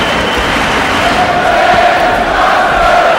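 A sellout boxing crowd fills Jerry Weber Stadium in Halle, Germany, at an IBF light heavyweight title bout, a loud continuous roar of many voices with no breaks.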